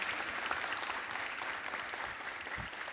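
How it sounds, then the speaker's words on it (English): Steady applause fills a council meeting room, an even, moderately loud wash of many hands clapping at once with no voices breaking through. "the rounds of applause"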